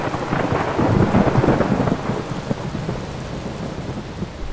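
Tropical thunderstorm over Tikal's main plaza: a loud rolling thunder rumble rises and slowly fades over steady heavy rain, with no talking.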